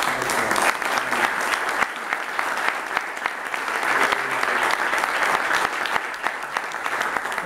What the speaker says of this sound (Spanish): pido, por favor, un aplauso también